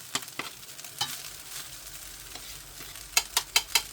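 Rice with peas, eggs and ham stirred in a sizzling pan, soft frying hiss under scattered spatula scrapes that quicken into a run of sharp, rhythmic taps near the end.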